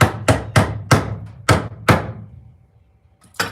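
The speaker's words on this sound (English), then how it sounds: "Put the hammer to it." Six sharp metallic knocks in quick even rhythm, a short pause, then one more hit, close and loud as a hammer taps a lid down onto a paint can.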